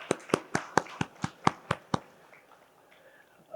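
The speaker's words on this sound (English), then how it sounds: "Round of applause for you, please." Applause from an audience at a keynote for the Asia-Africa Business Summit, heard as about ten sharp, evenly spaced claps over two seconds, then quiet room tone.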